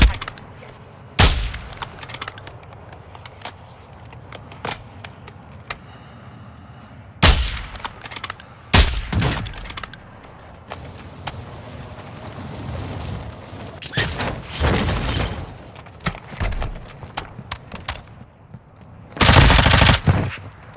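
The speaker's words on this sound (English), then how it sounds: "You are taking effective fire." Bursts of automatic and single gunfire in a squad-based shooter video game, loud and close, coming in irregular clusters separated by quieter stretches of ambient game noise.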